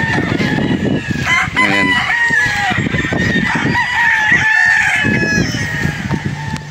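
Gamecock stags crowing on a farm in Padre Garcia, Batangas, several overlapping crows and clucks at close range, with someone talking over them.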